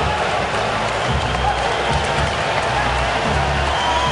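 Hockey crowd roaring and applauding steadily in an arena after Steven Stamkos scores his 60th goal of the season against Winnipeg, a dense, continuous wash of cheering that fills the whole stretch.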